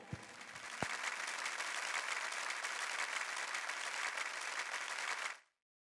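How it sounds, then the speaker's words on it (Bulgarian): Wedding guests break into warm, sustained applause for the newlyweds before their first dance, a steady wash of clapping that cuts off abruptly at the end. "Аплодисменти за тях!"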